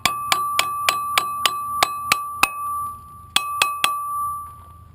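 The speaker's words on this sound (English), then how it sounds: "I like to use the hammer, just lightly tap it in." Light metallic taps from a hammer seating brake pad clips on a front brake, about a dozen bright, ringing strikes in a steady rhythm with a short pause before the last few.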